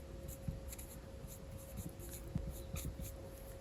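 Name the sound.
writing a trigonometry equation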